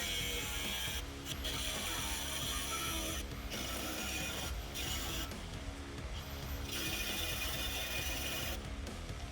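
Steel being cut for openings to fit 4x4 square tubing vents on a DIY direct heat smoker, a loud continuous grinding, ratcheting roar close by, with brief dips, no talking.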